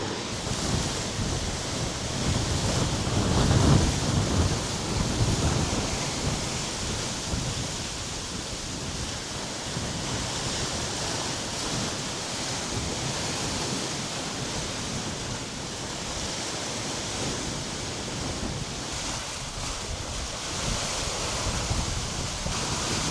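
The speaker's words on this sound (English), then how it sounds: "That's kind of freaky when all of a sudden those huge waves come through." Huge ocean waves crash and surge against the rocky central Oregon coast near Cape Perpetua, a continuous loud roar of surf with a heavier swell building early, mixed with wind buffeting the microphone.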